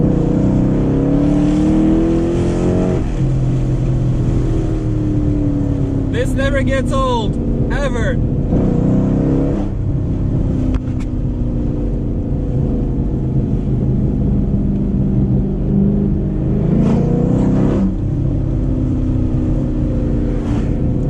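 A cammed 2006 Chrysler 300C SRT8 with an aftermarket exhaust idles with a deep, loud rumble, then revs sharply a few times in quick bursts before settling back down. Someone speaks briefly over the engine.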